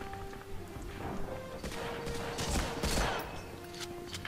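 Rapid, overlapping gunfire and impacts fill a busy World War II battle scene in the video game Medal of Honor: Frontline, with steady crackling shots and explosive thuds over a dense background of game sound.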